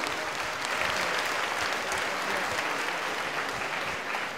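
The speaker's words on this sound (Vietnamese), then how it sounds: "cảm ơn nhau một tràng vỗ tay dài nữa." An audience at a Vietnamese sacred music concert in a church hall gives sustained, even applause, dense clapping holding steady throughout with no voices on top.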